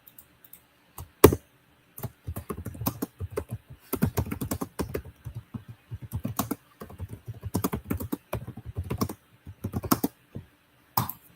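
Fast, irregular keystrokes on a computer keyboard clatter in bursts with short pauses, close and fairly quiet, with no talking.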